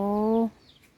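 A single chicken's drawn-out cluck-like call, loud and close, ending abruptly after about half a second and followed by faint outdoor background.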